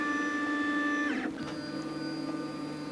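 3D printer runs steadily at close range, whining motor tones shifting pitch as the print head moves, alone with no voices.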